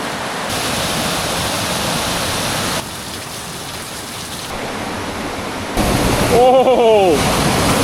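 Rushing water from a waterfall near La Catedral in Medellín pours as a steady, loud broadband roar, with outdoor ambience and a voice calling out briefly near the end.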